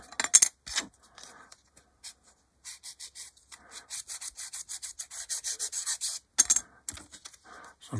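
A plastic part from an HK Models 1/48 B-25J kit being sanded by hand: quick, dry scratching strokes in irregular clusters, then a steady run of even back-and-forth rubs, close and crisp.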